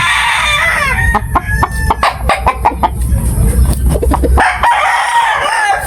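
A sweater breed rooster crows repeatedly, loud and close, its calls mixed with rapid clucking from the birds around it; no one speaks.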